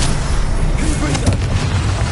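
A Confringo fire spell from a Harry Potter video game bursts in a loud, dense, rumbling blast that fills the short moment, with a voice faintly mixed in.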